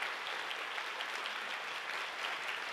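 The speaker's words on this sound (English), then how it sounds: "please join me in thanking all the great members of the panel with a round of applause" An audience at a peace foundation forum claps steadily to thank the panel members. The applause is a dense, even wash with no talking over it.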